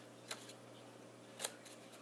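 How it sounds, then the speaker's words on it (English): Scissors snip through a paper roller coaster track. Two short, faint cuts sound close by, about a second apart, in an otherwise quiet room. "you take your scissors and you cut"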